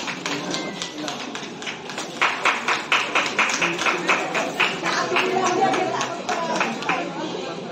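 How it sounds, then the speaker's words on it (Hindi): Audience clapping at a community gathering in Odisha, with rhythmic hand claps swelling in the middle and continuing steadily under murmuring voices and crowd chatter. "ताली ताली ताली।"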